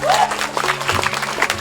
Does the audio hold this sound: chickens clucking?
no